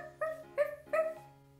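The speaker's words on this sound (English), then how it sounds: "It's a dog." A dog gives three short, whiny yips or barks in quick succession, fairly soft and close, alone without talk.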